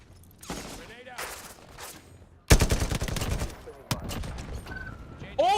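In a Modern Warfare first-person shooter game, a grenade blast lands as a sudden loud broadband burst among rapid, sharp bursts of gunfire, with a player's voice talking in the mix.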